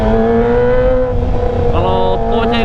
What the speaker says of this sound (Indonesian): gua ganti lagi sekarang guys knalpotnya yang karakter suaranya berbeda ya